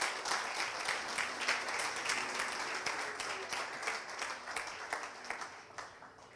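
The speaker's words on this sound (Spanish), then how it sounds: "Denle un aplauso al Señor por eso." A church congregation claps in applause after a sermon point, with individual claps audible in a brisk, fairly close patter that gradually thins and fades toward the end.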